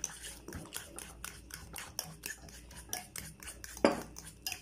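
A utensil mixes egg into banana cupcake batter in a bowl, giving a steady rhythmic series of scrapes and clinks against the bowl, close and with no talk, plus one sharper knock near the end.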